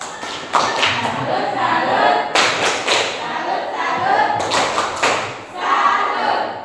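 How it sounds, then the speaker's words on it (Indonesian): Classroom clapping for a student, loud, close bursts of hand claps and thumps coming in rough waves with brief pauses between, as a small group of pupils applauds in a room. "Berikan tepuk tangan juga untuk Reski, perwakilan dari kelompok berapa"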